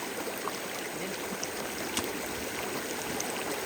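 Water runs steadily from a hose, a continuous hissing splash with small spatters, no voices.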